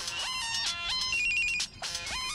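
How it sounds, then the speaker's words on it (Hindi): A mobile phone ringtone plays a bright, repeating electronic melody, loud and close, with no talking over it. "हमारा फोन बज रहा है।"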